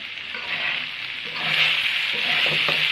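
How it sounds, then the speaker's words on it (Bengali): Okra (bhindi) frying in oil in a pan, a steady close hiss of sizzling with faint scraping of stirring, growing slightly louder partway through. "এখন আমি এটা ভালোভাবে লাল লাল করে ভেজে নেব"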